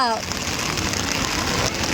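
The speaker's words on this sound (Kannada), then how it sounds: "ಫುಲ್ಲು ಮಳೆ" Heavy rain pours steadily over a college sports ground during a sports day, making a dense, even hiss that fills the whole stretch.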